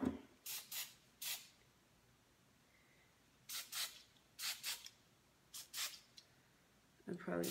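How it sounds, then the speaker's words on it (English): Short hissing bursts of hairspray are sprayed onto a braided mohawk, coming in quick clusters of two or three puffs separated by pauses, close and fairly loud, with a little talking in between. "I probably should use the different hairspray, but this is all I got."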